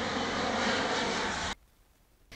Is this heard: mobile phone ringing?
no